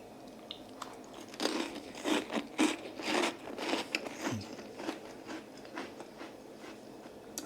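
Close, quiet chewing of bread and olives dipped in oil with an eggplant, pastrami and chickpea meze, giving a run of soft crunches and bites with no talking.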